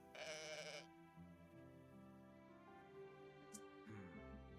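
A goat in the video game A Cozy Island bleats loudly once, frightened by an earthquake, then a fainter bleat follows near the end, over a steady synthetic game soundtrack.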